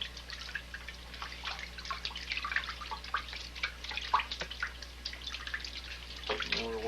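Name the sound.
rinsing oily items in a bucket of cold water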